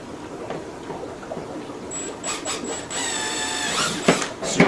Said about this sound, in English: So let's throw this drill bit